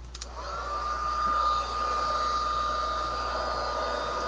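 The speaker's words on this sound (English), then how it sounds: "we're going to take our heat emboss tool" A heat embossing tool blows hot air over snowflake embossing, a steady whining hiss with a bright tone, starting with a click and running loud and close throughout.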